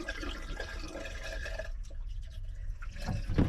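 Water gushes and splashes from a van's emptied water tank in a continuous close wash of liquid, with dripping and trickling that changes texture near the end.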